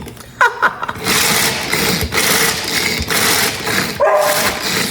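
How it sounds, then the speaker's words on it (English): A dog barks several times indoors in a kitchen while food is being prepared, with sharp yelps near the start and again toward the end over a steady mechanical whir. "I don't know why it's barking, because he always barks when he hears me doing anything that doesn't involve him."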